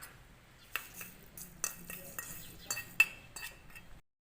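Spoon clinks and scrapes as sugar and red chilli powder are stirred into pani puri water, a handful of sharp metallic taps spaced irregularly, close and fairly quiet.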